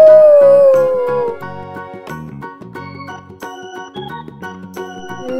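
A wolf lets out one loud, sustained, falling howl that lasts about a second, then gives way to a light, tinkly musical backing.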